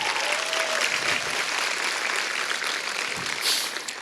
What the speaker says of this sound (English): we can applaud all the way through. This is keep clapping for a while.